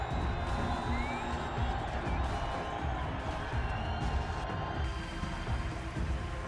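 A large crowd cheers through a Battlerite video game trailer, a dense and continuous roar with scattered whoops and some clapping mixed in, steady throughout.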